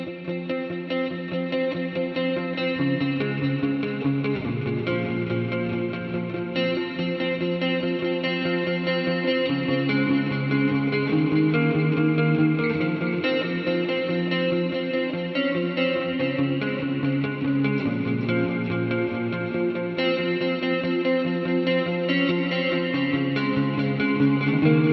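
Electric guitar played through a Mooer GE150 Max multi-effects unit with Tri-Chorus modulation, modulated delay and Church reverb, a steady, distorted rock/metal riff with dense sustained chords and a wet, shimmering tail, continuous and loud with no talk.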